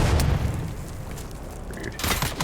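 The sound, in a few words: grenade explosion in the video game Dune Awakening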